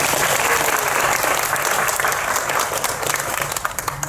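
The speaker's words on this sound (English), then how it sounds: "Can we get a big round of applause for our dancers?" Loud, dense applause rises from a crowd cheering dancers at the Polynesian Cultural Center on Oahu, Hawaii, a continuous wash of clapping that tapers slightly toward the end.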